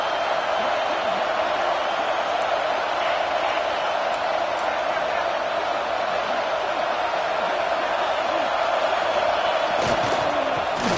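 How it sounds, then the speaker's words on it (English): Large stadium crowd roaring steadily at a college football game as the defense holds near the goal line, a dense, continuous wall of cheering with no break. "this big crowd doing everything possible to inspire this defense down here near the goal line"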